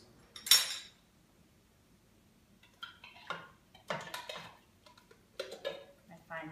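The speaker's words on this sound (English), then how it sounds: "I add my diced tomatoes." Diced tomatoes tipped into a pot of vegetable soup with beans, giving a sharp clatter against the pot, then quieter wet plops and clinks of metal and a spoon stirring, spread over several seconds.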